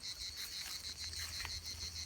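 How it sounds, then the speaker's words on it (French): Cicadas singing in a pine forest, a dense steady high buzzing drone at moderate distance, continuous with no speech. "là les cigales s'en donnent à cœur joie, je vous fais participer en même temps"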